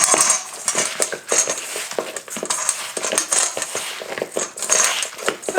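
Egg and breadcrumbs are stirred into a meatloaf mixture in a bowl, giving close, irregular scraping and clinking of a utensil against the dish, with no talking.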